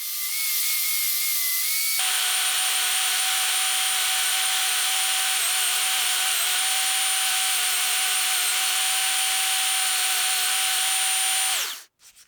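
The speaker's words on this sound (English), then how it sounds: "Then I did a lot of shaping and sanding so that I could get a good looking handle" A power tool runs steadily for about ten seconds while a knife handle is sanded and shaped. The whine is loud, close and continuous, and it cuts off sharply near the end.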